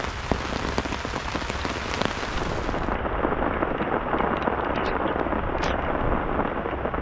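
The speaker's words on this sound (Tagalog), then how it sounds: "Tumuhos na naman yung ulan." Heavy rain pours steadily onto a camp shelter during a stormy camping trip in Dingalan, a dense, constant close hiss of drops drumming without pause.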